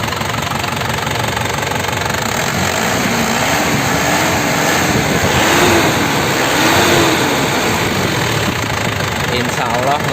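A silver 2003 Isuzu Panther LS car engine runs close by with a dense, steady roar, swelling slightly as it is revved a little around the middle; voices may be faintly mixed in.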